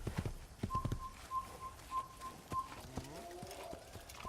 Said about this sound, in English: Oh, look, there's another horse.